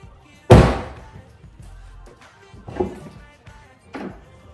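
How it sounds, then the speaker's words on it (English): A solid Tesla Model 3 car door thunks shut loudly, followed by a couple of softer knocks and handling sounds. "and then you're gonna close the door."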